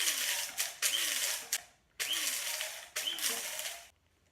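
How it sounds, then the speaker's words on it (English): A blade grinder whirs through coffee beans in several loud bursts, the motor pitch dipping as each pulse runs and then stopping briefly before starting again, close by. "In order to bring them back in, you give it a couple of shakes as you're grinding."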